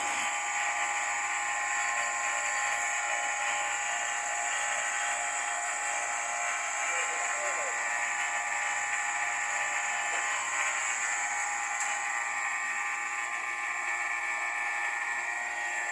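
Vacuum pump evacuating the refrigeration system of a 30 hp blast freezer compressor, a continuous high-pitched mechanical whine and hum that runs steadily and loud the whole time, with no speech.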